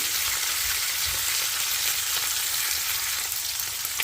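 Meat pieces frying in a pan, a dense, steady hiss of sizzling oil at close range with a few faint crackles and no stirring.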